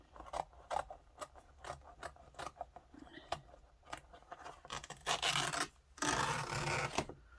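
Scissors snipping through paper at an art table, a run of short crisp cuts in uneven rhythm, close and fairly quiet, with a couple of longer rasping strokes near the end.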